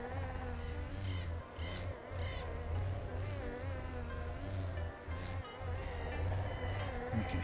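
Bees buzzing in a video game, a dense, continuous droning hum with a steady low pulse that swells and dips slightly, loud and close throughout.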